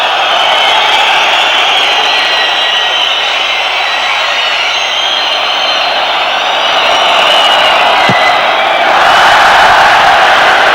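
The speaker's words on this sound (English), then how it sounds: "Crowd jeering Crossley a little there for some time wasting" A football stadium crowd at the 1995-96 UEFA Cup match between Olympique Lyonnais and Nottingham Forest jeers goalkeeper Crossley for time wasting. It is a dense, loud, continuous roar that swells slightly toward the end.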